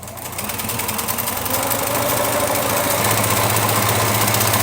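A sewing machine stitches quilt heart blocks a quarter inch from a marked line, its motor humming in a steady, rapid mechanical rhythm that gets a little louder at the start and then holds steady, with no talking.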